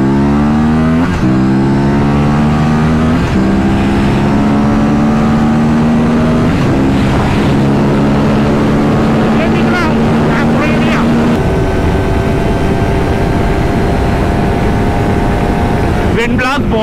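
A Kawasaki Ninja 400 and an Aprilia RS457 race on the road. Their loud engines rev up through repeated gear changes, one climbing whine after another, under constant wind roar.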